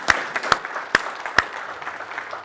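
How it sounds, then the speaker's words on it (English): A small conference audience at TechEd Australia 2013 claps, with a few sharp, separate claps standing out over a soft wash of applause. "Round of applause for John."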